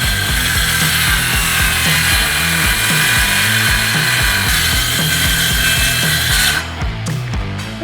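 A long cut is sawn into wood for a workbench with a power saw, a loud, close, continuous high whine over rapid rhythmic rasping strokes, easing off near the end.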